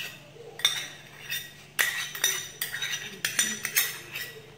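Chicken marinade for Greek grilled chicken being mixed in a bowl, with a run of clinking utensil strikes against the dish in irregular bursts, close and fairly quiet, no talking.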